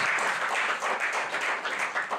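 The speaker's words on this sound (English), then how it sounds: "that deserves a wonderful round of applause" Applause from an audience at a real estate book launch and dinner, a dense steady wash of many hands clapping at once, fairly close and sustained for a couple of seconds with no talk over it.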